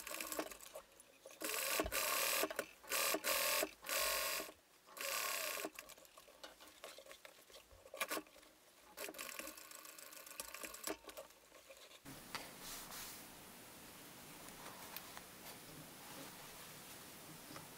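A sewing machine runs in short, loud bursts while top stitching the seam allowance on a pair of sweatpants, then shifts to a quieter, steadier hum toward the end.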